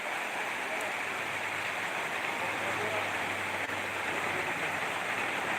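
Steady rain pouring down while fishing outdoors, a dense, even hiss of falling water that stays loud and unbroken from start to finish, with a low hum underneath.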